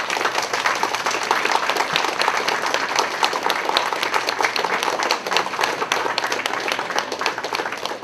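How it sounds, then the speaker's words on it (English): Audience applause at a library science expo for high school students, steady dense clapping from a crowd sustained for about eight seconds without a break. "Another round of applause for people at the front."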